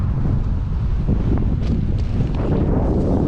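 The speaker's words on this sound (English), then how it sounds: "Still pretty windy here." Wind buffets the microphone of a GoPro Hero 8 Black outdoors, a loud, constant low rumble and roar with gusty flutter and no pauses, with no voice heard.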